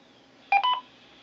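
Two short keypad beeps from a Baofeng UV-5R radio in quick succession, clean dual-tone pips over faint background hiss.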